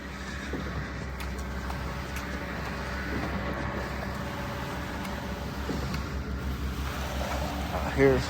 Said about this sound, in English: I hear rumbling there. I hear that train coming.